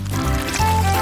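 Thick liquid pours steadily in a brief, close stream, cream filling a round chocolate shell for a decorated cake.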